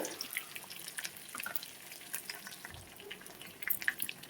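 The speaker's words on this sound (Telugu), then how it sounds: "బాగా ఫ్రై అవ్వాలండి ఎండుమిర్చి" Dry red chillies sizzling in hot oil in a pan, a soft, steady crackle with scattered small pops, faint and close, no talking.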